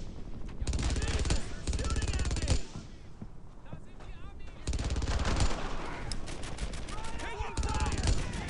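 Machine gun fire in the World War II shooter Brothers In Arms: Earned In Blood, loud rapid bursts in two long stretches separated by a quieter gap, with shouted voices in the battle mix.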